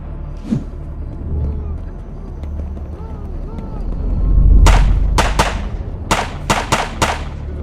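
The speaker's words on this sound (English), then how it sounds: "The artillery conducted intense shelling of the coastline." Artillery shelling a coastline, a series of sharp explosive booms and bursts, several in quick succession near the end, over a low rumbling background.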